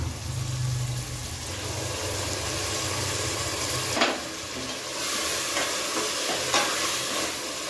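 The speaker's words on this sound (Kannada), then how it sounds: "ಚೆನ್ನಾಗಿ ಫ್ರೈ ಮಾಡಬೇಕು" Ground masala paste for biryani frying in a pan, a steady dense sizzle with occasional stirring scrapes, no talking, close and even in level throughout.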